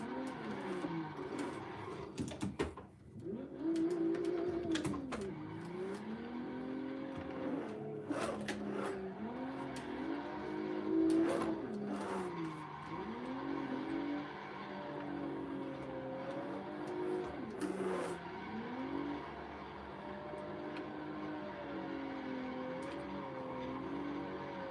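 Stock BMW M3 engine drifting in Assetto Corsa, a continuous loud wavering engine note rising and falling with throttle and shifts, steady throughout with brief dips.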